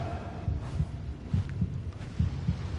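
A video game heartbeat thumps in a low, steady lub-dub rhythm, with about six muffled beats in quick pairs, close and alone over a faint ambient hum.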